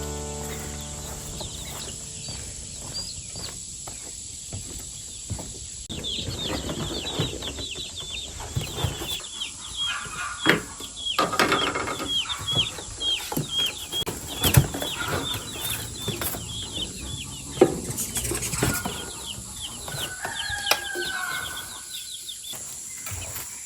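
Chickens cluck and flutter around a homestead, with scattered clucks and wing flaps rising over a steady background hum for the whole stretch.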